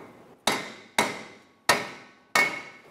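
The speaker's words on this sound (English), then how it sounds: "You can use a hammer and tap around the hat of the rotor to try and free up." A hammer taps around the hat of a Subaru Impreza brake rotor to free it, giving four sharp, ringing metallic strikes spaced about half a second apart, each decaying quickly.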